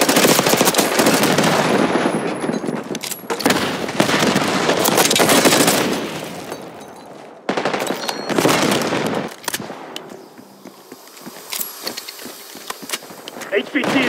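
Dense automatic gunfire in a Call of Duty: Black Ops 6 multiplayer match on PC, loud rapid bursts with scattered single shots and brief pauses, fading to sparser, more distant cracks later while voices talk over the combat.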